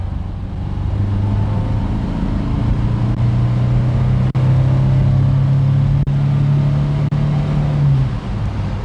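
A classic Vauxhall Viva GT accelerates hard from inside the car, its engine note droning and rising steadily in pitch with a few sharp clicks, then easing off near the end.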